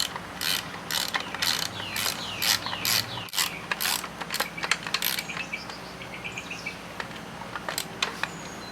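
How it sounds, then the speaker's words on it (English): Last bolt unscrewed from the lower unit of a 60 HP Johnson Evinrude VRO outboard with a ratchet wrench: rapid, close clicking ratchet bursts in a series, then lighter metallic ticks, outdoors. "So I'm gonna go ahead and take that last bolt out of there"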